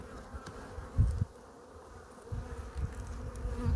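Honeybees buzz around an open hive during a brood comb inspection, a close, continuous hum with soft handling knocks and no talking.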